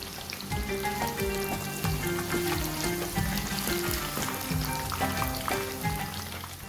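Fish pieces fry in hot oil in a restaurant-style Lahori fish fry, a continuous dense sizzle and crackle with bubbling pops, close and steady throughout, with no talking.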